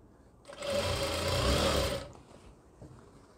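A sewing machine runs in a single close burst of about a second and a half, stitching a sleeve onto a frock, then stops into quiet.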